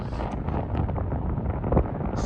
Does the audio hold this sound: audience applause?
no